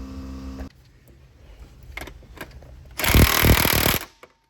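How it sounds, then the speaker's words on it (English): A big impact gun hammers a large bolt on a 3.6 Pentastar engine during lifter and rocker work, one loud rattling burst of about a second after a quieter stretch of shop noise. "I'm just gonna hit this big bolt with my impact gun"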